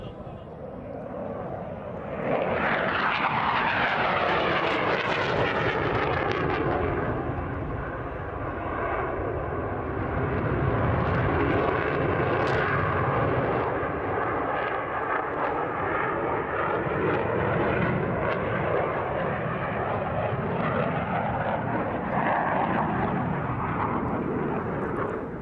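A JF-17 Thunder fighter jet roars loudly and steadily overhead, a continuous broadband engine rush with a sweeping pitch shift as it passes near and then carries on.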